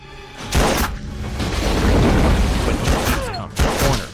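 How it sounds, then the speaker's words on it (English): A massive explosion in an action film scene aboard a boat, heard as loud booming blasts with rumbling debris and crackling, bursting sharply at the start and again near the end. "Nervous, but encouraged by CJ's kiss, Ronnie unleashes a massive explosion."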